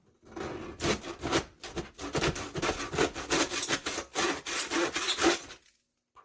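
Rapid back-and-forth sawing of a plastic part of a tool battery, steady rasping strokes in a quick rhythm, close and fairly loud, stopping near the end.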